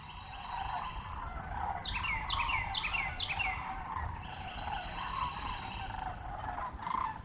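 Several birds sing and chirp in the woods of Turkey Run State Park, Indiana, with repeated bright trilling phrases over a steady hum of forest ambience, and one louder nearby call near the end.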